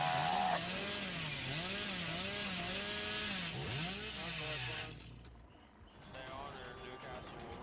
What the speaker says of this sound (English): Could have maybe faked the chainsaw.